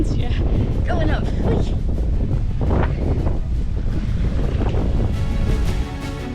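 Strong wind buffets a vehicle climbing in low gear on a mountain road near Geiranger, Norway, a loud steady roar of wind noise at the microphone throughout.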